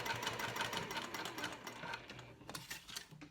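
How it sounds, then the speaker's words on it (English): A sewing machine stitches down the side seam of a fabric wristlet clutch in a short, close burst of rapid mechanical rattling that slows slightly toward the end. "then you just sew all the way down the right side, moving your bobby pins out of the way."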